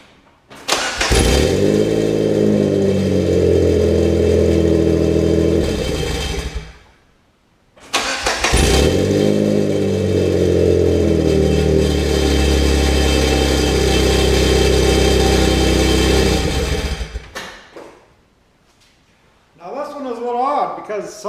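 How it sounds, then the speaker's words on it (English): A car engine cranks and starts after a battery replacement, then idles with a steady loud rumble; it shuts off, is restarted and idles again before stopping, and a voice speaks briefly near the end. "So I'm going to start it up, and we'll see where we're going to be on the idle on this."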